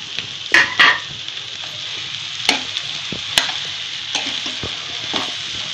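Mashed potato filling for vada pav sautés in a hot pan, a steady sizzle broken by sharp scraping knocks of a spoon stirring, loud and close with no speech.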